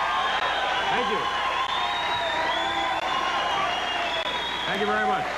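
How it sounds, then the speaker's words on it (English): A 1985 Tonight Show studio audience applauds and cheers David Letterman's entrance with dense, continuous clapping and whoops from a large crowd, steady and loud throughout. "Crowd is in a frenzy"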